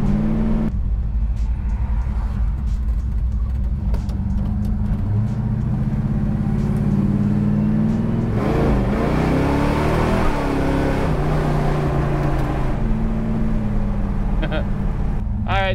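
A 1970 Chevelle with a big block V8 runs steadily, a loud, deep rumbling idle and drive note that rises and swells midway as the car moves off, continuous throughout with no talking.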